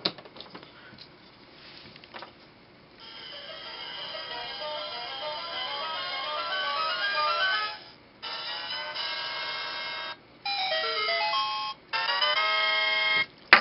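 A DIY electronic doorbell kit chip plays a Legend of Zelda tune in thin, electronic, beeping tones: a rising melodic run that builds in loudness, then several phrases broken by short silences, close and clear with no talking.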